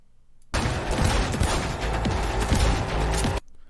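Dense gunfire from a film shooting scene bursts in suddenly, a loud rapid clatter of shots and crashes that runs for about three seconds, then cuts off abruptly.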